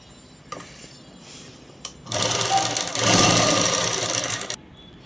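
A sewing machine top-stitches a dress, a short burst of fast, loud, close mechanical whirring after a few quiet handling clicks, stopping abruptly near the end.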